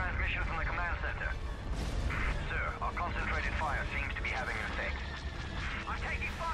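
Weapons fire in a space battle in the Empire at War video game, a dense continuous rumble of blasts and booms under radio-style unit voice lines and chatter.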